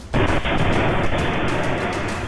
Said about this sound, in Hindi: इस वीडियो से धमाके की इंटेंसिटी का अंदाजा लगाया जा सकता है।